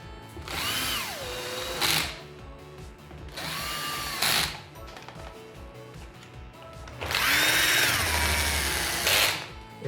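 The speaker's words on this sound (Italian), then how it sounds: "Andiamo con un trapano avvitatore" Cordless drill driver in screwdriver mode with a low clutch setting, driving screws to reassemble a Folletto VK 130 vacuum cleaner after a circuit board swap: three close whirring bursts with rising and falling pitch, separated by short quiet pauses.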